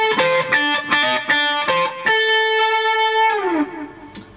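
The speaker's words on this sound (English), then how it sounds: "Lick number 2 sounds like this." An overdriven electric guitar plays a minor pentatonic blues lick in position 5: a choppy run of short picked notes followed by a long held note with vibrato that bends downward and dies away. Nothing else is heard, and the guitar is close.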